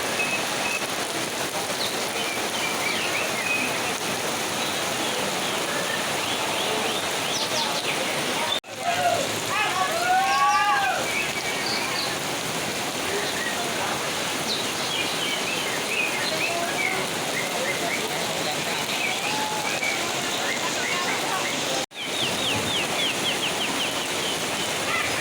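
Rain falls steadily at an outdoor bird-singing contest in Sukamulya, a continuous hiss under distant bird calls and crowing, with brief dropouts along the way.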